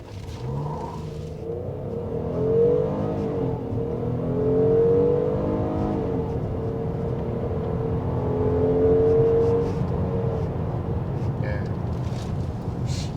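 A 2021 Hyundai Grandeur 3.3 engine hums and rises as it accelerates, the pitch climbing in waves with gear changes, heard from inside the cabin with steady road noise.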